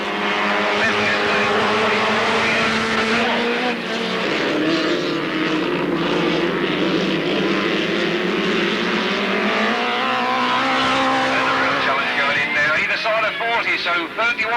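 Race cars roaring around an oval at an Alwalton race meeting, a dense continuous engine howl rising and falling as the pack passes, loud and close throughout.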